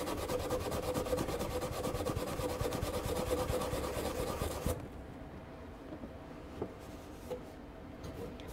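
Scrubbing a Ninja Foodi XL grill plate, a close, steady rhythmic rubbing and scraping that runs for several seconds, then drops to quieter, sparse scrubbing noises.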